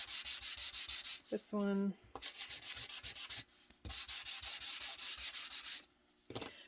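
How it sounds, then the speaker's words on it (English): Rhythmic back-and-forth strokes sand the edges of paper for a scrapbook layout, close and steady in repeated bursts with short pauses, and a brief voice is heard partway through. "it would sand it as well"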